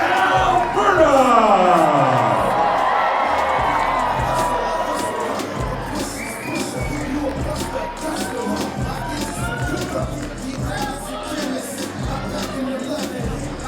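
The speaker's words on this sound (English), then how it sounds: "He's got the crew with him right here, cheering him on." Crowd at an indoor wrestling match cheering and chattering, a loud swell at the start settling into a steady hubbub of voices and shouts, with a commentator talking over it.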